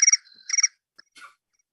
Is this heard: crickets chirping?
yes